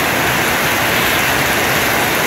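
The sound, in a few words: heavy rain beating on roofs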